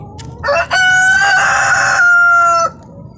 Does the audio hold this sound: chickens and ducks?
yes